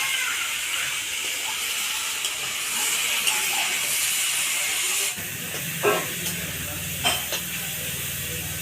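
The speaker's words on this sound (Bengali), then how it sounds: "ইঁচড় আর আলু একসাথে ভাজা হয়ে গেছে" Green jackfruit and potato frying in a pan give a steady, loud hiss and sizzle throughout, with a few brief clatters of stirring near the end.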